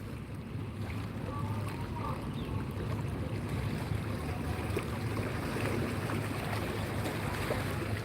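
A large, slow vehicle ferry at Ulee Lheue port in Banda Aceh gives off a steady low engine rumble mixed with lapping water and gusting wind across the microphone, with faint background voices.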